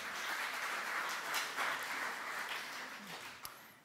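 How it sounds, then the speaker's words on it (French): A church congregation claps for people being honoured in a Catholic service, a moderate, diffuse round of applause that carries on steadily and then slowly fades, a little distant in a reverberant hall. "Vous pouvez les applaudir, hein, vraiment, quel courage."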